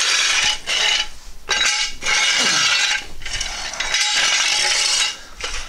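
A wrench tightens the wheel nuts on a Honda CR-V, giving a series of loud metallic ratcheting bursts split by short pauses, close up and with no voices.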